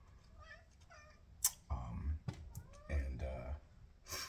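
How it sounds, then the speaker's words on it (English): A cat gives a few soft meows close by, while a person speaks quietly in a home and low thumps sound in the room. "Hey, cat, making an appearance."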